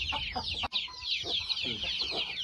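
Rooster on a farm, a heavy breeding bird of about 4.25 kg, clucking close by in a run of short repeated calls, with low background rumble and a brief dip partway through.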